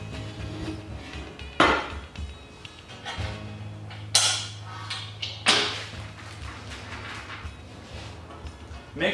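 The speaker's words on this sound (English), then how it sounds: "you'll connect these together with the 13mm nut and bolt" Metal crossbars of a screen rack cart being joined with 13mm nuts and bolts give several sharp clanks and knocks at irregular intervals over a steady low hum, fairly close.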